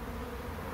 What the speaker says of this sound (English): we've got a big cluster of bees there